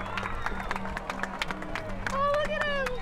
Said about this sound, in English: People are cheering, clapping.